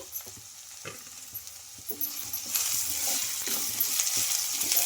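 Tempering ingredients and curry leaves sizzle and fry in a pan for rava puri, with occasional stirring clinks and scrapes, the hiss growing louder and denser midway and staying steady and close.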